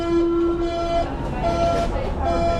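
A crowded train departs a Berlin station, its steady rumble filling the space with a long tonal horn or whistle held early and brief tones recurring later, voices murmuring underneath.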